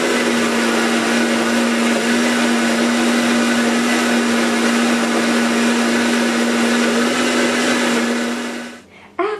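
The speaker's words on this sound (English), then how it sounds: "Cover blender with lid and beat at low speed until all the ingredients are well blended and a creamy texture is formed." A blender beats chocolate coconut eggnog (coquito) at low speed, a loud steady motor whir with a constant pitched hum for several seconds before winding down and stopping with a clunk.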